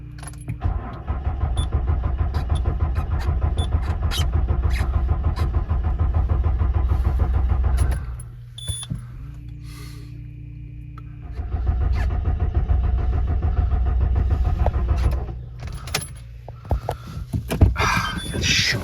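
A Citroën C6 starter cranks over and over without the engine catching, two long loud grinding bursts separated by a pause, with brief clicks and a rattle of keys in between.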